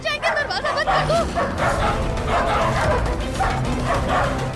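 Several dogs bark and yip in quick, overlapping bursts, loud and close, with some whimpering, set in a dramatic TV scene with voices in the background.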